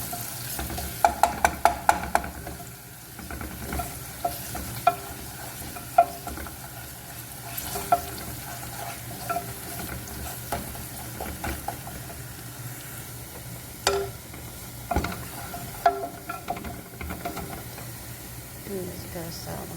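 Onions and white rice fry in a pan with a steady soft sizzle, while a utensil stirs and scrapes against the pan in scattered clicks and knocks, close and moderately loud, with voices faint in the background.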